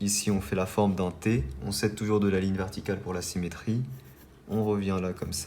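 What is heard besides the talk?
No distinct noise like a dog, phone or traffic.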